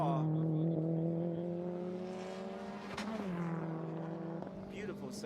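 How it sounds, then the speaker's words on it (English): A Subaru GC8 rallycross car sweeps past at a rallycross event, its engine note loud and sustained with a pitch shift as it goes by, and sharp anti-lag pops and cracks punctuate the pass near the end. "GC8 as it goes past us with the anti-lag popping as it went past us"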